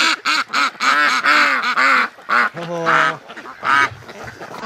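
Ducks quack loudly and close by in a rapid, overlapping chorus of repeated nasal calls, with a few longer honking notes mixed in.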